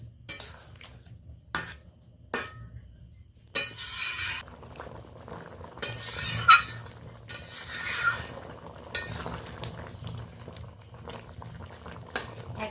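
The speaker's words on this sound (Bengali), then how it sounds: "এটা অ্যাড করে দিচ্ছি। তো ভালো করে মিশিয়ে নিচ্ছি।" Ground cashew paste is stirred into a simmering doi potol curry, with spoon scrapes and clinks against the pot in irregular bursts over a soft bubbling background.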